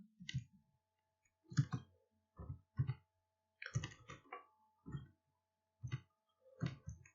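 Bursts of computer keyboard typing, clustered key clicks with short pauses between words, close and clear with no talking, as Urdu text is entered in InPage software.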